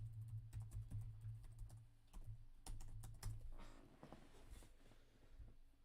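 Quiet typing on a computer keyboard, with irregular clusters of soft key clicks and taps close by and low background hum.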